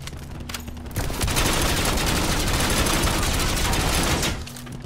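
Loud continuous automatic gunfire in Call of Duty: Black Ops 4, a dense rapid burst starting after a second and holding for about three seconds before cutting back to quieter game ambience.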